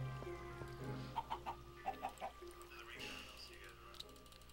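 Minecraft chickens cluck in a quick run of short notes, clustered in two bursts, while a player talks over the game sounds.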